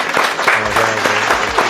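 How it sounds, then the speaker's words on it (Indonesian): Audience clapping for a coach at the close of a talk session, a loud, fairly near burst of clapping hands mixed with background crowd murmur, steady across the short stretch. "tepuk tangan untuk Coach Edi Sharma."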